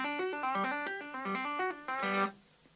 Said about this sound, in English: You play a little open string tapping lick